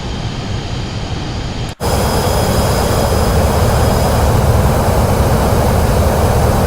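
Pilatus PC-24 business jet engines in Microsoft Flight Simulator 2024, a loud, steady broadband turbine roar with a high whine, briefly cutting out before resuming at full strength.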